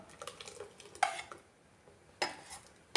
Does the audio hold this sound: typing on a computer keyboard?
no